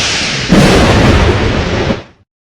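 A loud thunderclap from a lightning strike, a sudden heavy boom that rumbles and crackles for over a second before cutting off abruptly.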